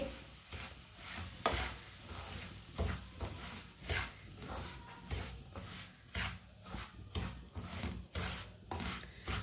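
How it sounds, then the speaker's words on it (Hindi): Semolina roasting in hot ghee, stirred with a spoon in a rhythmic series of dry scraping strokes against the pan, close and repeated about every half second over a faint sizzle. "सूजी को जलने बिल्कुल भी नहीं देना, इसे चम्मच चलाते हुए भूनना है।"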